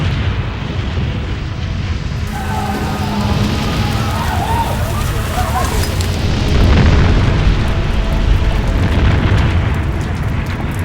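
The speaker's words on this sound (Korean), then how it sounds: "그런데 베수비오 산이 폭발했다. 누구도 예상치 못한 화산 폭발이었다." Mount Vesuvius erupts in a massive, continuous roar: a loud, deep rumbling explosion that swells and churns steadily throughout with no voices.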